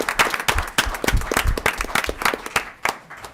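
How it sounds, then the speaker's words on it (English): Audience applause for student ambassadors at a high school district board meeting, a burst of dense, irregular hand clapping from a modest crowd that carries on steadily for a few seconds before thinning out near the end. "great a round of applause for student ambassadors"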